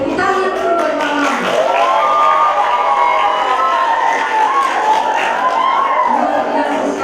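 A crowd cheers, shouts and whoops loudly for Mama at an Indonesian winners' announcement, children's voices rising above scattered clapping, with voices mixed in throughout.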